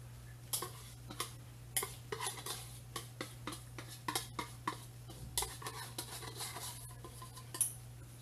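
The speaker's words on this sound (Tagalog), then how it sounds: "pagpahahaluin lang natin yung ating egg yolk at saka yung ating condensed milk" Egg yolk and condensed milk being mixed together for leche flan in a jar, giving quiet, irregular clinks and scrapes of a utensil against the container, with a steady low hum underneath and no talking.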